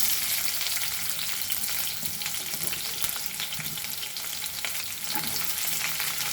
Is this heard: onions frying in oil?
yes